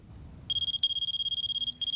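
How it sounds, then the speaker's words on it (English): A telephone rings in a steady electronic trill, two long bursts separated by a brief gap, close and clear with no talking over it. "Blasted bloody phone!"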